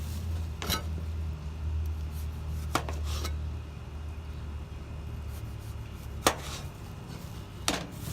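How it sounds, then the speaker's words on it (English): Green tomatoes are sliced with a knife on a board, giving four or five sharp, isolated cuts spaced a second or more apart, close but quiet over a low steady hum. "to slice up some green tomatoes."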